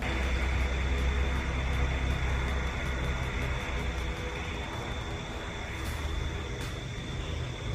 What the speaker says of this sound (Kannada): ಫ್ಲೈಟ್ ಇವಾಗ ನಮ್ಮ ಮುಂದೆನೇ ಆರ್ಬೇಕು